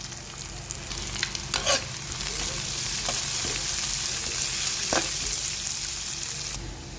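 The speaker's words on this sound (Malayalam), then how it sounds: "വെളുത്തുള്ളി ഇഞ്ചി പച്ചമുളക് കറിവേപ്പില ഇത്ര സാധനം ഒരുമിച്ച് ഇട്ടേക്കാം താളിച്ചങ്ങോട്ട് എടുക്കാം" Garlic, ginger, green chili and curry leaves fry with onion in hot oil as a tempering for a Kerala camel meat curry, making a strong, even sizzle punctuated by a few close stirring scrapes and clinks.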